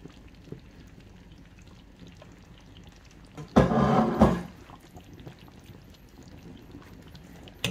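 Okra tumbles into a pot of simmering placali sauce, a brief wet splash and pour of about a second that rises over the soft background bubbling.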